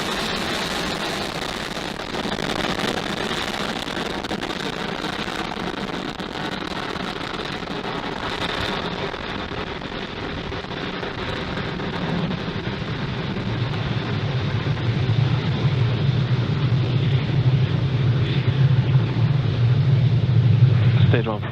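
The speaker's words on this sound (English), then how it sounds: "Falcon 9 has successfully lifted off from Pad 40 at Cape Canaveral Space Force Station" A SpaceX Falcon 9 rocket lifting off from Pad 40 at Cape Canaveral Space Force Station makes a distant rumble that builds into a heavier, louder low roar in the second half, with wind buffeting the microphone.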